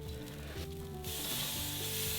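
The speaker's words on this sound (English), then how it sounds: "if you don't hear that sizzle" Chicken breast laid flat onto a hot grill grate with tongs, breaking into a loud, steady sizzle that swells after a quiet start and continues close and alone.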